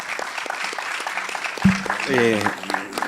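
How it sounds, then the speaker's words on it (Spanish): Applause from a panel audience following a speaker's remarks, moderate clapping running throughout under a brief voice and some other sounds, fairly close in the room. "Un fuerte aplauso para vos."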